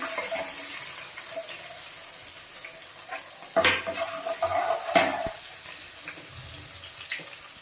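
Onion frying in a pan with a little oil while being stirred, a steady soft sizzle with scraping spoon strokes, louder stirring bursts around the middle, no talking.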